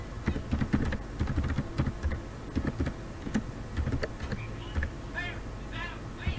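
Typing on a computer keyboard while entering an assignment title, a busy run of close, uneven key clicks with a low background murmur.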